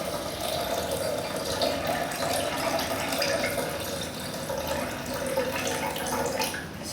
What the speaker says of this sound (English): I'm going to be covering it with exactly the same amount of water as the almonds